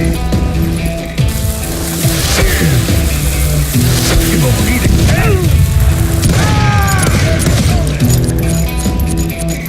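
Gunfire in the Western shooter game Call of Juarez: Gunslinger, repeated loud shots and ricochet-like whines with metallic clatter, dense and continuous throughout.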